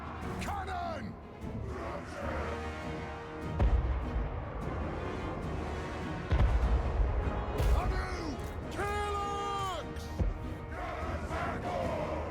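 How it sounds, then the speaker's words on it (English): Cannon fire in the Warhammer-style strategy game Karaz-a-Karak, with heavy low booms landing around 3.5 and 6.5 seconds amid a busy battle of crowd shouts and clashing, while a voice talks over it. "Cannon!"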